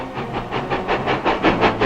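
A troop train rolls through a railroad yard, a loud, steady rumble with rhythmic clatter and hiss that swells and pulses over a couple of seconds, heard alone with no voices.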